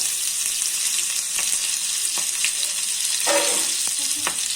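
Ginger paste frying in hot oil in a pan during home cooking, with a steady hiss and sizzle throughout and occasional stirring clicks and scrapes near the end.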